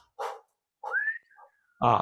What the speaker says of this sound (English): you try to whistle now with an open mouth